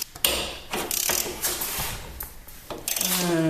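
Ratcheting wrench loosening a rusty exhaust manifold bolt on a Ford SportKA, heard as a run of close metallic clicks and taps, the bolt rounded off, with a rising engine-like hum near the end.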